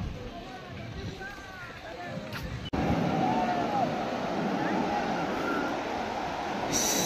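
Sea waves and strong wind at Paradeep beach in Odisha make a continuous roaring rush that buffets the microphone, with a short dropout partway through and faint voices under the noise.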